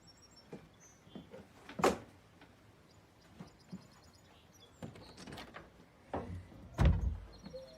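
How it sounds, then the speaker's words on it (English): A door is pushed shut in a quiet home, giving a couple of soft thuds and a heavier closing thunk near the end, with no talking. "Would you close the door when you leave?"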